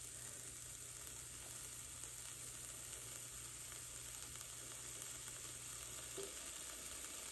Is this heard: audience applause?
no